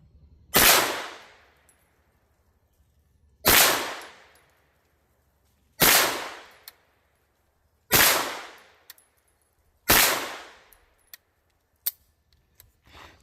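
A Bear Creek Arsenal BC-9 bufferless AR9 9mm pistol fires Winchester White Box 115 grain FMJ rounds: five loud, separate shots spaced about two seconds apart, each with a ringing decay, followed by a few small clicks.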